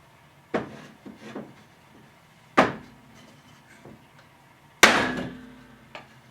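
Sharp hammer blows strike a glued and pinned Festool Domino wood joint to crack it apart: three hard, close knocks spaced a couple of seconds apart, with a few lighter taps between them in a quiet room.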